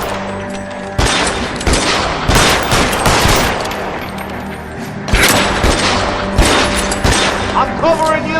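Sustained video-game gunfire in L.A. Noire: rapid volleys of loud shots and thuds from several weapons, bursting repeatedly over about eight seconds with shouted voices mixed into the firefight.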